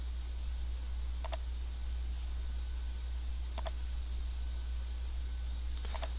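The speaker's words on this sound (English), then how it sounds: "to advance the video, I'm using the arrow keys on the keyboard" Arrow keys on a computer keyboard are pressed in three separate sharp clicks, roughly two seconds apart, close and quiet over a steady low electrical hum.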